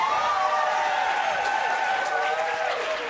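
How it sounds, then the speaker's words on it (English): Steady, dense applause from a conference audience at a leadership celebration, sustained and fairly loud throughout, with a faint sustained tone or whistle above it. "let's give Kiki another round of applause"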